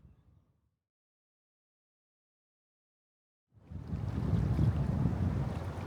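Cold wind gusts across the microphone at an estuary near Crescent Head, New South Wales, a low roaring rumble that starts abruptly after near silence and stays strong to the end.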